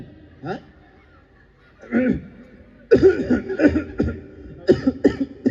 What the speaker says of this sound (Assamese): কথাটো শুনি মই কাহ উঠি গৈছে বাবা